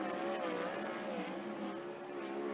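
A 360 sprint car on a hot lap at Skagit Speedway, its engine a loud, sustained roar holding a steady pitch with slight wavering as it runs past.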